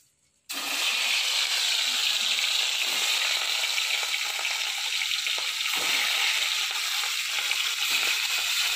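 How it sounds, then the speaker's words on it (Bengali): Pieces of catla fish hitting hot oil in a wok, a sudden loud sizzle that stays strong and steady for several seconds with no talking. "মাছগুলো ভেজে নেব।"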